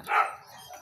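A neighbours' dog gives a single short, sharp bark at a moderate distance, followed by faint background noise.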